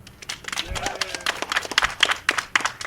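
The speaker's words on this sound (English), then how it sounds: "how about a big round of applause for our engineer, Ian Hall" A live audience applauds the engineer at a stage performance of a radio drama, with dense, fairly loud clapping building over a few seconds while a voice speaks.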